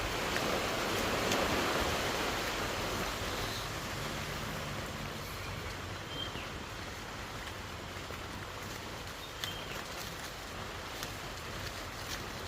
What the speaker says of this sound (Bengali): শুভ শুভ শব্দ, বৃষ্টি চলে আসছে।